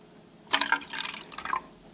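Vinegar poured into a styrofoam cup in a school lab, about 100 grams, making a short, close burst of splashing, trickling liquid lasting around a second before it tapers off.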